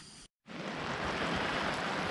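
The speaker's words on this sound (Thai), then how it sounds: "ฝนลงแรมแล้วครับท่านผู้ชม" Heavy rain pours steadily at a riverside campsite by the Mae Taeng river as the water rises, a dense, loud, even hiss that starts after a brief silent gap and continues unbroken.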